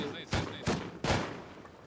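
Three sharp, loud gunshot bursts from a firefight in the survival game Rust, spaced about a third of a second apart, each trailing off into a ringing decay.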